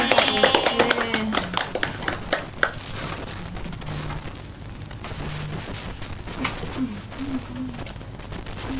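Classroom clapping for the first group at a geography microteaching session, a burst of scattered claps at the start that thins into sparse taps amid room noise.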